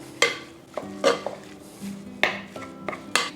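A spoon clanks and scrapes against a bowl while a zucchini mixture with lemon zest and chives is stirred, giving about eight sharp, uneven knocks close by with short gaps and no talking.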